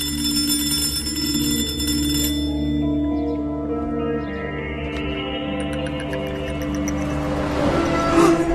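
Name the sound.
telephone ringing in video game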